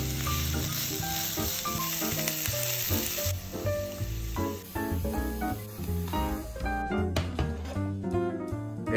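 Diced white onion fries in olive oil in a pan, a steady sizzle and hiss running the whole time beneath loud, continuous background music.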